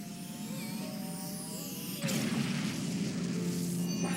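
A deep sonic boom bursts in halfway through, over a steady roar of wind and rumble, leaving a broad wash of noise.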